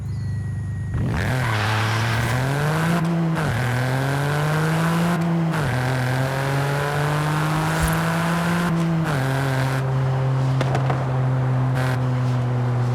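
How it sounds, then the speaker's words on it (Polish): A stock Toyota GR Yaris engine in the Forza Horizon 5 racing game starts and idles, then revs up several times in smooth rising and falling swells, loud and steady throughout with no talking. "odpalmy sobie ten samochód, zobaczmy jak on w serii brzmi"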